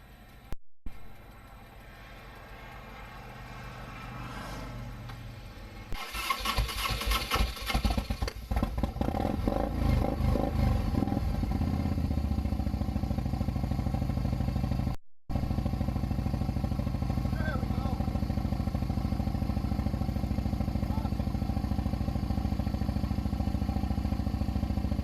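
A motorcycle engine cranks and catches, then clatters and revs before settling into a loud, steady close-up idle that runs on after a brief cut, with no talk over it.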